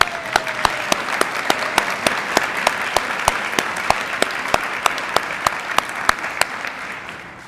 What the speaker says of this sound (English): Let's give them first a round of applause.